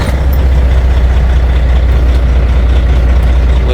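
A truck engine idles loud and close, a steady heavy low rumble with no break as air pressure builds.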